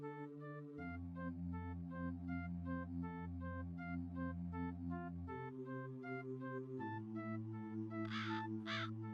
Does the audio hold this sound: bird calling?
yes